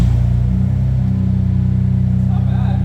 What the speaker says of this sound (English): You have to start the car.